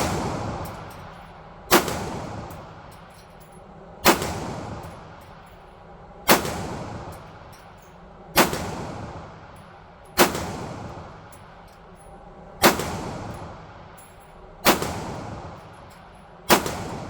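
Eight loud pistol shots from a BUL Armory Axe Cleaver ring out at a steady pace about two seconds apart, each a sharp crack followed by a long echoing decay, with no talking.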